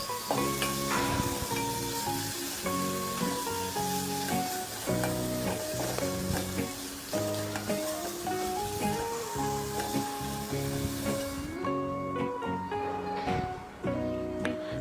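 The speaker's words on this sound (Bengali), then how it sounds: "এরপর আমি সব মশলা একসাথে কিছুক্ষণ ভেজে নেব" Spices for a jackfruit-seed and dried-fish curry sizzle together in a pan in a steady, dense hiss that runs the full length, largely buried under loud background music.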